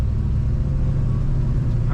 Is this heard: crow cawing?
no